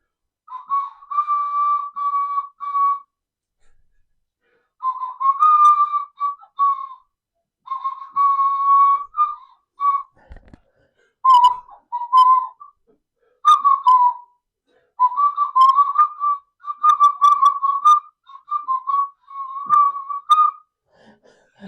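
A melodic whistled tune in phrases separated by brief pauses, close and clear, played by a person trying out a recognisable song, with a single short knock partway through.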